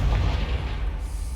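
The Confringo blasting spell from a Harry Potter video game goes off as a single deep, loud boom with a rumbling tail that fades out over about a second.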